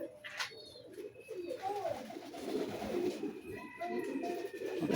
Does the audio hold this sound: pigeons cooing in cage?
yes